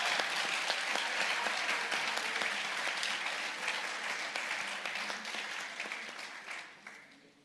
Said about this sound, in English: That was a riotous applause